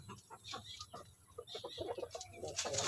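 A Basilan rooster and a native hen give soft, scattered clucks and short calls close by, quiet against light background noise with no talking.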